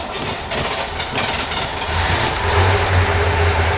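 A factory drag-racer Chevrolet Impala engine rumbling steadily at idle on choke after starting, a low continuous drone that grows slightly louder and fuller toward the end, with no talk over it.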